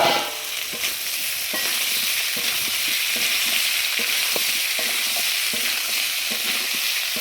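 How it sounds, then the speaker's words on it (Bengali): Soaked, squeezed soybean chunks fry in hot oil in a pan for potato curry, a steady close sizzle with light stirring clicks and scrapes throughout. "এবার আমি সয়াবিনটাকে ভেজে নেব"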